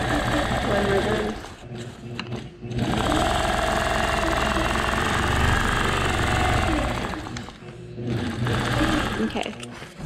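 A sewing machine hums and rattles rapidly while quilting stitches across a puffy memory quilt, running in long bursts with brief pauses, loud and close.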